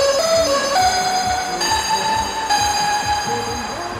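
An FM synthesizer patch built to recreate an iconic sound plays a bright, sustained lead melody over a pulsing low rhythmic layer, loud and close, with no voices.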